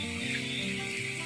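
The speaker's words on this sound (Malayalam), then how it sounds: "ഇനി പൊടിയുടെയൊക്കെ ആ ഒരു പച്ചമണമൊക്കെ മാറുന്നവരെ നമുക്ക് വീണ്ടും ഇളക്കിക്കൊണ്ടിരിക്കാം" Squid roast sizzles steadily in a pan as coriander powder is stirred in, a close, continuous frying hiss with faint scraping and no talk.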